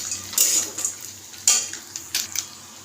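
A utensil stirs peanuts and boiled potatoes in a pan for chire polao, giving a few distinct scraping clinks against the metal at irregular intervals over a faint sizzle, with no talking.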